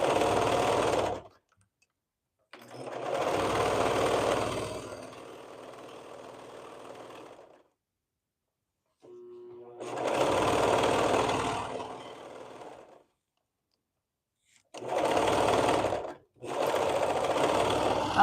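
Sewing machine stitching fabric in several bursts, each running steadily for a few seconds and separated by short pauses, loud and close with no talking.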